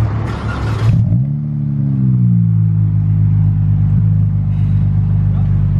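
A Dodge Challenger SXT's 3.6 Pentastar engine revs up, its loud, deep tone climbing and then settling into a steady drone, with a short burst of voice at the very start.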